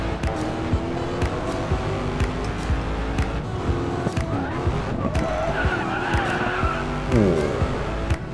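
A Chevrolet Camaro muscle car drifts in a racing video game, with tires squealing and skidding over a steady engine roar that runs loud and continuous, rising into a sharper screech near the end.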